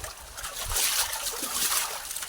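Water gushing out as a drain is opened beside laundered clothes, a steady loud splashing trickle that holds throughout.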